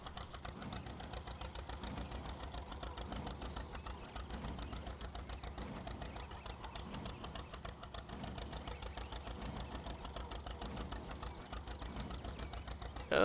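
A tractor engine idles steadily in a farming video game, a fast, even mechanical chugging that runs throughout at a moderate level with no talk.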